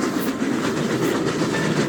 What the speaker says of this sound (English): As the train navigates its way through the rugged terrains of Ireland